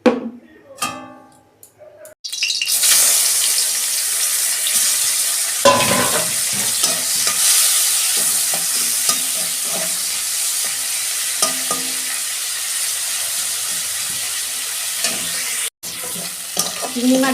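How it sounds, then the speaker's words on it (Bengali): Prawns seasoned with salt, chilli powder and turmeric frying in oil in a wok, a loud continuous sizzle that runs on with faint clatters and one brief break, heard up close. "কড়াই তেল দিচ্ছি, চিংড়ি মাছটা ভাজবো।"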